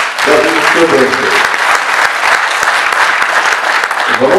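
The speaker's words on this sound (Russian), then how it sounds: "Можно смело аплодировать." An audience at a symphonic jazz band concert applauds with loud, steady clapping throughout, while a voice speaks over the applause.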